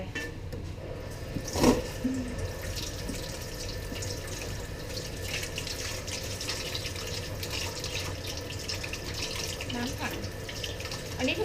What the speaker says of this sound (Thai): น้ำซาวข้าวใส่ลงไป